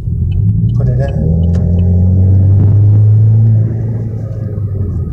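Chevrolet Camaro 2.0T with a cold air intake and muffler delete, heard from inside the cabin while accelerating. A deep, steady rumble carries a rising engine tone that builds for a few seconds and then eases off.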